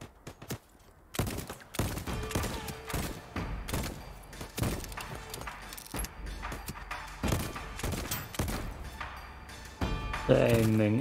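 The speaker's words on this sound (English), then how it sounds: "Gunfire" Bursts of gunfire in the video game Voidtrain fire in irregular clusters of sharp shots with thuds between them, while a player talks over the action.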